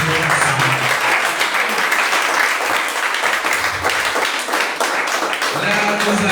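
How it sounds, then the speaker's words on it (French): A church congregation at a youth praise and worship evening applauds the pastor, sustained dense clapping filling the room with cheers and voices mixed in. "Acclamons le pasteur."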